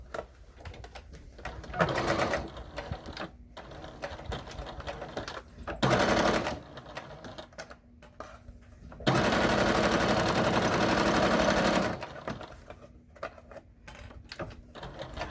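Sewing machine with a regular presser foot stitching a zipper onto a fabric wallet, running in short bursts of rapid mechanical whirring with a steady loud run near the middle and quieter handling noise between.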